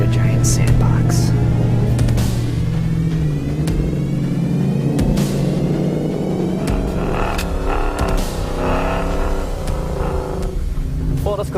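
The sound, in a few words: Roush F-150 truck driving off-road on sand dunes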